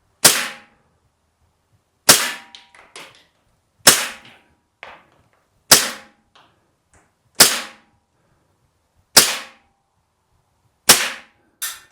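A KWC CO2 blowback airsoft pistol, an M1911 or PT92, fires seven sharp cracking shots outdoors, one roughly every two seconds. Some shots are followed by faint clatters and pings, and no one talks.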